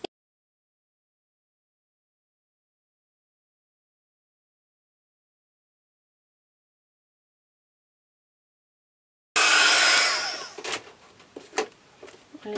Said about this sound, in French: je vais juste donner un petit coup de pistolet chauffant